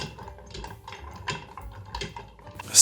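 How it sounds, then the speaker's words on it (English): Ice cubes rattle and tick against the sides of a cocktail mixing glass as a spoon stirs, a quiet, close, continuous clatter with no voices. "and stir it to chill and dilute for about 30 seconds."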